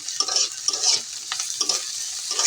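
Coriander mash ingredients fry in hot mustard oil, a loud, close sizzle with spatula stirring scraping through it in uneven strokes.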